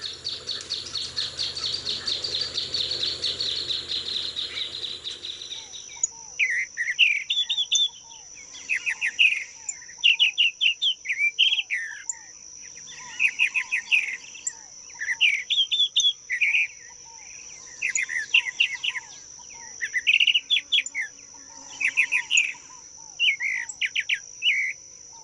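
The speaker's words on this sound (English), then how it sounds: "The tropical mockingbird belongs to a group of birds known for their exceptional singing abilities" A tropical mockingbird sings in a savanna, pouring out repeated bursts of varied, rapid phrases separated by short pauses, loud and close, over a constant high insect drone, after a few seconds of broadband background noise.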